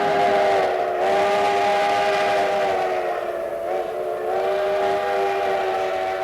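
A train on the mountain railway between Durango and Silverton climbs nearly 3,000 feet, sounding a long, loud, steady whistle with layered tones that waver slightly and hold for several seconds over a low rumble.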